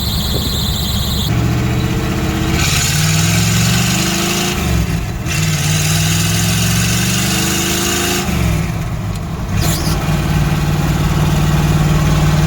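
A Camaro with a T5 manual gearbox drives, its engine revving up in long rising pulls, dropping off and climbing again through gear shifts, loud and close from inside the car.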